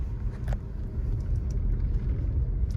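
A car engine runs steadily during a driving lesson, giving a continuous low rumble from inside the cabin with only faint, brief clicks and rattles on top. No one speaks.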